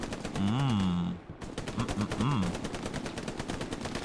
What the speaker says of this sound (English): they are getting hammered down by the MG firepower here